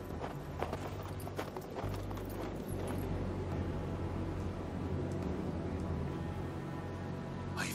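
Horse hooves clip-clop in a quick rhythm over a steady low rumble and faint hiss, with a few sharper knocks early on, in the video game Hard West 2.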